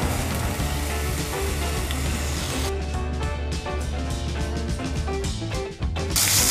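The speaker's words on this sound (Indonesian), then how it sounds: "ini adalah kulit ayam ya. Saya akan goreng." Chicken skin sizzles and crackles in hot oil, a continuous hissing fry with popping spatters, loud and close.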